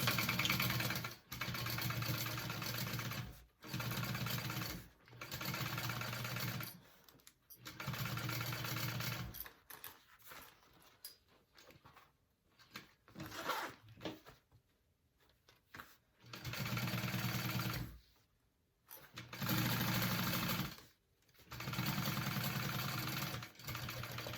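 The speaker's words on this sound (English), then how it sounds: "I'm gonna sew that at a 3/8 inch seam allowance" A sewing machine stitches a 3/8 inch seam on a unisex tote bag, running in steady bursts of several seconds separated by short pauses, close and clear with no talk.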